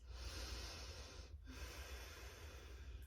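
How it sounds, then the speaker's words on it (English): Deep breathing during a bedtime yoga stretch, one long, close, airy breath heard alone, with a brief pause partway through. "take 3 deep breaths here"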